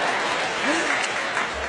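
Audience applause breaks out after a joke, a steady dense wash of clapping that stays at an even level throughout, with a voice faintly audible underneath.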